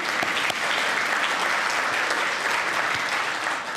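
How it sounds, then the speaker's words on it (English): A seated audience at a Klamath Tribes nature evening gives themselves a round of applause, steady close clapping from many hands holding an even level throughout. "let's give yourselves a round of applause"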